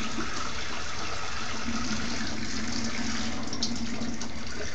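Water runs from a shower during a small child's bath time as a steady, moderately quiet rushing splash that stays even from start to finish, with no talking over it.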